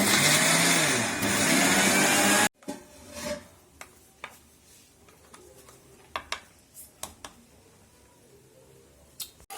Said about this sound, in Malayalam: പൊടിക്കുകയല്ല അരച്ച് മിക്സിയിൽ നമുക്ക് അരച്ചെടുക്കണേ